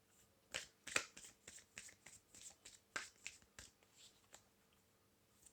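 Tarot cards are shuffled close by, a quick run of crisp riffling snaps and flicks with short pauses between bursts.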